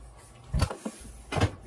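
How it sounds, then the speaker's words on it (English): Two dull knocks as the arm of an office chair bumps a desk, each a short thud about a second apart, close and alone. "Chair hit my desk."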